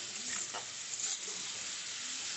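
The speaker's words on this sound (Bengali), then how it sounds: "কাঁচা লঙ্কা বাটাটা দিয়ে একটুখানি আগে কষে নিচ্ছি।" Green chili paste with onion frying in a pan, a soft continuous sizzle with faint scraping of a spoon, quiet and even throughout with no talking.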